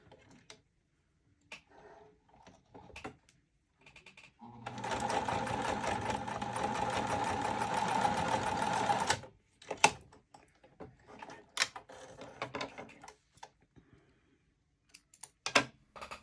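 A sewing machine with a zipper foot stitches a bag. A steady, fairly loud mechanical whirr lasts about four seconds and is framed by scattered clicks and handling noises before and after.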